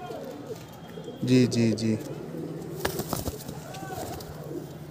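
A pigeon gives a short, close coo alongside someone speaking and some handling noise.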